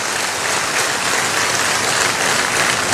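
A large audience at a Swasth Nari Sashakt Parivar Abhiyan public event with Chief Minister Chandrababu claps steadily for a birthday greeting, giving a dense, continuous, loud wash of applause with no voices on top.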